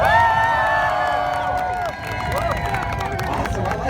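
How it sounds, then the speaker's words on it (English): A street-performance crowd at a Boston New Year's Eve gathering cheers, whoops and claps, with dense overlapping voices and shouts filling the scene, loud and close throughout. "clap your hands and make some noise."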